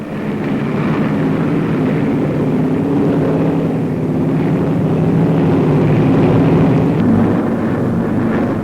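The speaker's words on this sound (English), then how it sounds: "Taking off from runways hewn from the jungle, they roar aloft" Kittyhawk fighter planes take off from jungle airstrips and climb away. Their propeller engines make a loud, steady roar that swells a little and lasts the whole stretch, with no talking.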